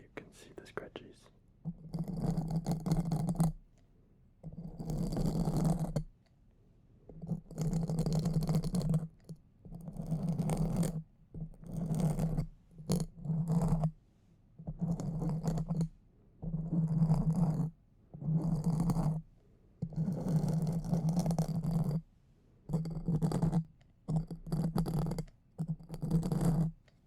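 Fingernails scratch across fuzzy microphone ears in bursts of rough, close scratching, stopping and starting with short quiet gaps between them, while a voice whispers softly throughout.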